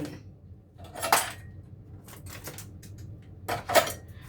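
A utensil stirs a flour mixture in a bowl, producing a few sharp scraping clinks in short bursts separated by quiet gaps, close by and alone.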